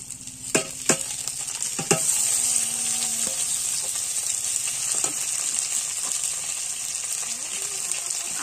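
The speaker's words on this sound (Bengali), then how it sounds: "এবার মাছগুলো দিয়ে দেবো।" Small fish dropped into a wok of fried onion, chilli and spice paste, starting with a few sharp knocks and clatters, then settling into a steady, close hiss of frying as the pieces are stirred.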